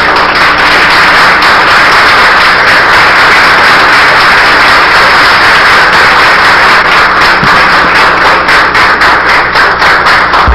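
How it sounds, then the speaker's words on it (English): Standing audience at Wose Community Church giving a warm welcoming ovation for a lecturer, dense loud clapping that stays constant and close for the whole stretch. "would you please stand and give a warm, welcoming applause for Brother Runoko Rashidi."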